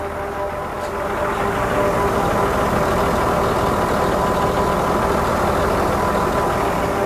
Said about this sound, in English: I want to show you the engine.